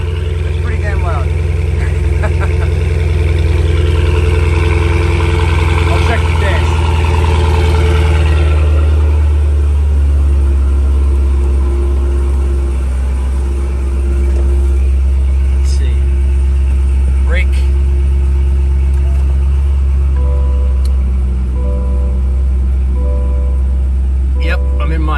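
A Cadillac Blackwing idles loudly after a cold start with its exhaust valves open, a deep steady rumble that swells at first and then settles. Nearby, a person talks over it.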